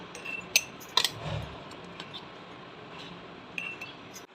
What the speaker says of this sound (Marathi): बारीक केलेला गरम मसाला आपण काचेचा बरणीत काढून घेऊया